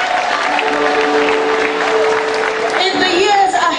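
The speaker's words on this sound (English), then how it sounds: "Give her a round of applause." Lecture-hall audience at a public lecture applauds continuously, a steady loud patter of many hands, with a faint tone and a voice starting near the end.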